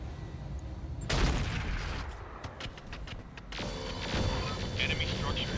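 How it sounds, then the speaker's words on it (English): Artillery units firing on a Marauder 2 in the video game RogueTech, a sudden heavy burst of booming blasts that rolls on as sustained rumbling fire, with a second surge of explosions near the end. "we're going to, I think, fire on this Marauder 2 with our artillery"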